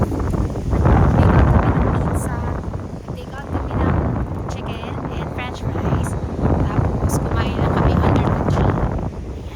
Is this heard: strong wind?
yes